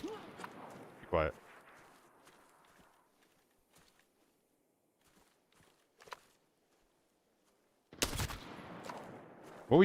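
Video game gunfire pops in short bursts near the start and again near the end, with quiet stretches and faint in-game footsteps between them.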